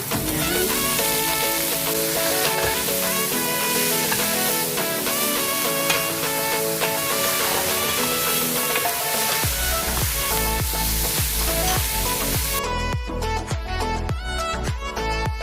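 Chicken curry ingredients sauté in a hot pan, giving a loud, continuous sizzle with dense crackling and occasional stirring clatter, close by and steady throughout.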